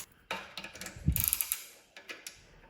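A flex-head ratcheting wrench from a SUZUME metric set clicks in quick bursts as it turns a 19 mm bolt, the close, crisp pawl ticks mixed with metallic handling noise.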